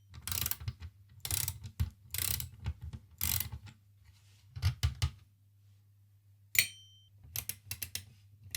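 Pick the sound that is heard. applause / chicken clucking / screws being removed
screws being removed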